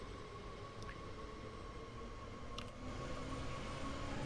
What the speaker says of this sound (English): Let's go, little train.